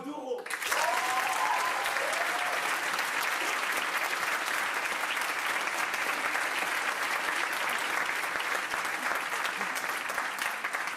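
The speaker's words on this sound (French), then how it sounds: "mesdames, messieurs, un tonnerre d'applaudissements pour Ambre Doro." Steady, thunderous audience applause fills a hall at a mock trial event, breaking out after a brief moment of voice and continuing loud and unbroken with dense clapping throughout.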